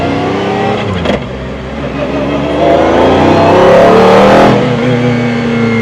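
Cabin engine sound of a car with a sequential robotized automated manual gearbox, a loud continuous drone that surges as the revs climb, with a brief sharp shift transient early and another around the midpoint, and no talking.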